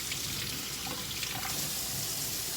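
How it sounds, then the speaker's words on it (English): Tap water runs steadily into a sink while a knife is scrubbed with a sponge, a constant close splashing hiss with no voices. "Now be careful when washing a knife, when you're scrubbing the knife, because of the sharp edge."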